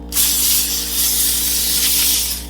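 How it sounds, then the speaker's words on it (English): A single continuous non-stick cooking spray hisses onto a baking sheet for about two seconds, close and loud, with a slight dip midway. "Spray it with a non-stick cooking spray."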